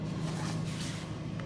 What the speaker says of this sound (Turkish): Şimdi arabaya bindik arkadaşlar.